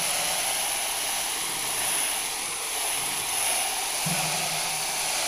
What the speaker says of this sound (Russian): Обрабатываем пеной, вон пузыри летают.